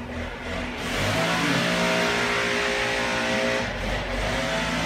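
A lawn workers' leaf blower runs just outside, a steady broad engine roar that swells and stays loud for several seconds before easing slightly, with no talking over it.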